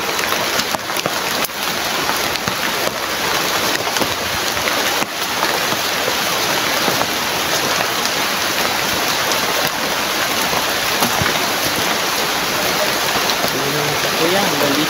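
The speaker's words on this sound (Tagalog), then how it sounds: "Sobrang lakas naman talaga ng ulan. Tumutuloy na din sa bubong." Heavy rain pours in a dense, continuous roar while water leaks through a roof indoors, loud and steady throughout with no breaks.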